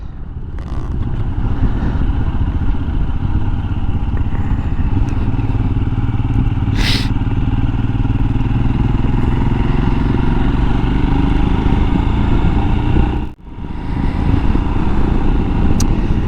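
A Royal Enfield Himalayan 411 motorcycle engine runs steadily and loudly at close range, a continuous low throbbing rumble with brief clatter, holding even throughout apart from a momentary dip near the end.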